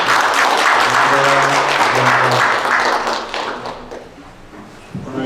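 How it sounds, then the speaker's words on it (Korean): A church gathering bursts into dense, steady applause that rings strongly for several seconds before tapering off. A sustained low tone hums beneath it. "큰 박수로."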